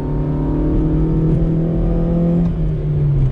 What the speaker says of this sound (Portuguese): Só para vocês ouvirem o ronco da indução e do escape.